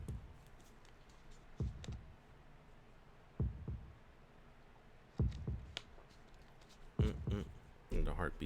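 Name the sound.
heartbeat sound effect in visual novel game Tsukihime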